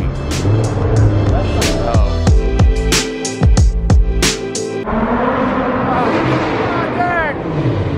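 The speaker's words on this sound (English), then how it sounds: "Jake's car is so loud. Oh my God, those downshifts. Pop, pop, pop, pop, pop, pop." A supercharged Lamborghini engine revs hard and downshifts, loud rising and falling engine notes with sharp exhaust pops and crackles, close and dominant over a noisy background.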